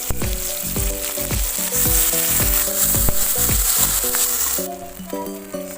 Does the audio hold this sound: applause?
no